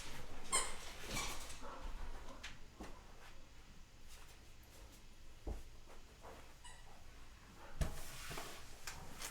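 Puppies heard faintly in a room, giving a few soft yelps and whimpers against low background noise, with occasional thumps and shuffling as they are moved.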